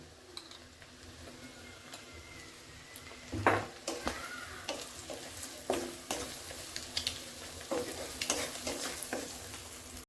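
Sliced onions and green chillies fry in hot oil for egg fried rice, a steady close sizzle broken by repeated scraping stirs of a spatula against the pan.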